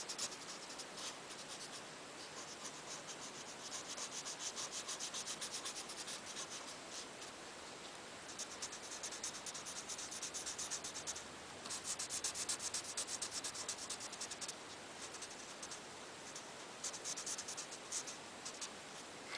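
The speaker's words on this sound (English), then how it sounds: "So we're going to color in our leaves." Continuous soft scratchy rubbing of a marker coloring drawn leaves on card paper, steady strokes with no voices.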